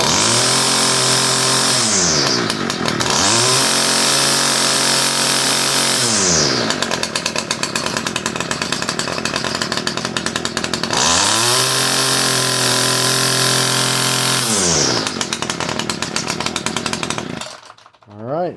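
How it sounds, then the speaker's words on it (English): A Homelite Trimlite string trimmer's small two-stroke engine screams at full throttle after being fired up, loud and close, with its pitch rising and falling in a few repeated revs before cutting off near the end. "Oh, it fired. Now full throttle."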